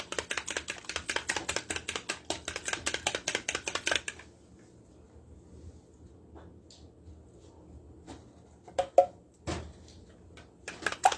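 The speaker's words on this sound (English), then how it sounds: "Pour your milk inside your egg and whisk it together." Milk and egg are whisked together in a bowl, producing a fast, steady run of close, light tapping strokes for the first four seconds. After that, quiet gaps are broken only by a few scattered clinks.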